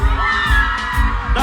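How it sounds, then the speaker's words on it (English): Concert crowd at the Reggae Sumfest festival screams and cheers over a booming bass beat that thumps at a steady rhythm, loud and close. "send a scream for me please"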